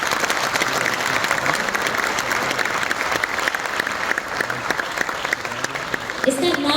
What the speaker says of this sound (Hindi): मैं चाहूंगी कि एक बार जोरदार फिर से आप लोग ताली बजाएं